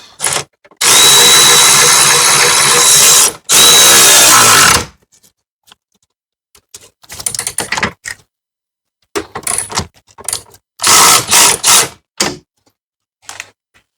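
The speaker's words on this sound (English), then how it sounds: "now you can go around snugging up all the bolts." Power drill or impact driver spinning bolts down on a Jeep Patriot/Compass/Caliber rear subframe, two long loud sustained runs, then shorter bursts and quick triggered spurts, close up with no talk.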